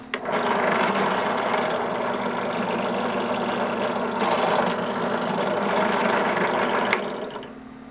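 A drill bores holes through layered Kydex holster sheets clamped together by hand, a steady close whirring motor hum running almost continuously before cutting off near the end.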